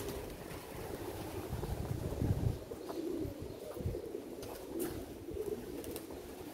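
Pigeons coo softly inside an abandoned train station, low repeated cooing over a windy, rumbling background, fairly distant and faint with no talk.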